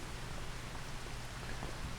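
Steady rain falls in a farming video game, a soft, even patter of drops on surfaces that continues without pause at low level.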